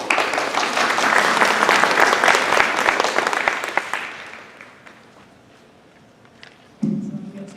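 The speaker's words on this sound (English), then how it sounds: "Round of applause." An audience at a high school Japanese National Honor Society induction ceremony gives a round of applause, steady clapping that tapers off into quiet before a voice begins speaking.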